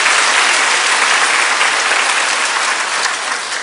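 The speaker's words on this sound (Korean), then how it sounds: "사모님께 박수 한번 하십시오." A church congregation applauds the pastor's wife, a dense, loud, even burst of clapping from many hands that fills the whole stretch without any voices.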